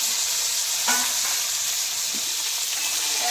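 Cut cauliflower and potatoes fry in hot oil with black cumin. A loud, steady sizzle runs throughout, broken by a couple of faint clinks of a utensil.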